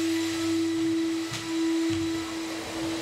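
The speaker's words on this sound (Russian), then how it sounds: "Да, сейчас работает пылесос." A built-in central vacuum system runs somewhere in a house, giving a steady whirring drone with a fixed tonal whine, heard from another floor at moderate level, with faint knocks of movement nearby.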